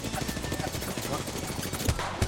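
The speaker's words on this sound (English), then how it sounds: "Someone else shooting at you?" Rapid automatic gunfire in the shooter game Apex Legends, a dense continuous stream of shots with a couple of heavier bursts near the end, under faint voices.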